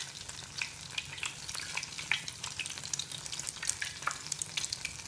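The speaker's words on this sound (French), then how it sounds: "on voit un tout petit peu le camembert fondre dans la poêle" Breaded camembert fries in a pan with a steady close sizzle and crackling spatters, punctuated by brief louder pops, continuous throughout with no talking.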